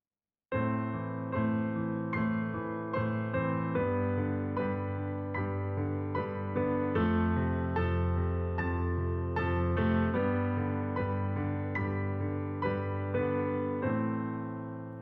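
Piano improvisation with a repeating right-hand pattern over steady left-hand chords, sustained and ringing, played continuously and alone at a soft, even level.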